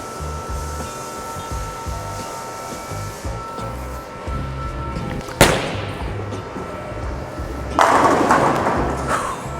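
A Roto Grip bowling ball rolls down the lane with a low, steady rumble, then strikes the pins with a sharp crash midway, followed by a later burst of clattering pin noise.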